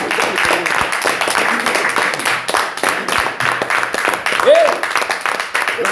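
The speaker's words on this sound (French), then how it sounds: "Applaudissons pour le Seigneur." A crowd at a religious gathering claps loudly and continuously for the Lord, rapid overlapping hand claps, with some vocal sounds mixed in.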